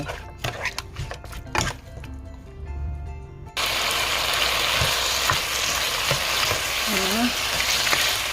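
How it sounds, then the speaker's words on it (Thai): Clicks and light kitchen taps, then a sudden loud sizzle of chicken hitting a hot pot that continues steadily as it stir-fries, with occasional scraping stirs. "เปิดไฟแล้วก็รวนไก่"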